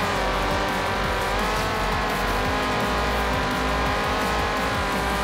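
An Ariel Atom roars at full throttle in a Forza Horizon 3 multiplayer race, its loud, continuous engine drone rising and falling through gear changes, with other racing cars and tire noise packed densely around it and no talk.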